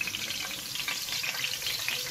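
Ghee melts and sizzles in a hot pan while making chicken fajitas, a steady close frying crackle throughout with no talking.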